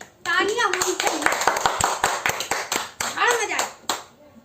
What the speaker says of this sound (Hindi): तालियां तालियां होनी चाहिए